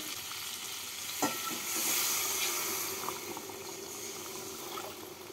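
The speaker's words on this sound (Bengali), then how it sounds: "এবার এর মধ্যে আমি দিয়ে দেবো পরিমাণ মতো জল।" Water is poured into a pan of frying hilsa fish for a pumpkin curry, the soft sizzle swelling into a brief louder hiss before settling into a quiet bubbling simmer, with a few light stirring clicks.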